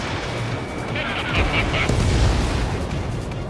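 A missile launch and explosion in the jet combat game Ace Combat 7: Skies Unknown, a steady roaring rush with a swelling mid-clip boom under engine noise, loud and dense with brief radio chatter tones.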